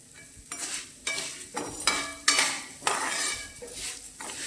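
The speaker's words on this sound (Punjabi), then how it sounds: "ਲਗਾਤਾਰ ਹਿਲਾਉਂਦੇ ਹੋਏ ਭੁੰਨਣਾ ਹੈ" Vermicelli roasted in a pan and stirred continuously, a utensil scraping and clinking against the metal in uneven strokes with a soft dry rustle, close up and alone.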